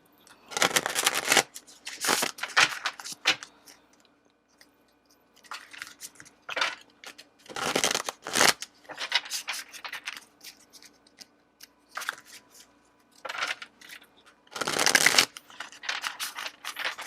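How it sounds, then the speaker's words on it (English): Tarot cards shuffled by hand in a series of close, crisp bursts, each riffle lasting about a second and separated by short quiet gaps, with no talking. "we're going to shuffle out some tarot before I dig into that"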